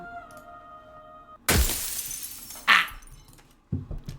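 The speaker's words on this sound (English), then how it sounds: "That sound effect, it's the sound of glass shattering." Glass shatters in the video game Slay the Princess, with a sudden loud crash followed by a smaller burst of breaking shards and a final crunch, heard over a faint tonal background with no talk.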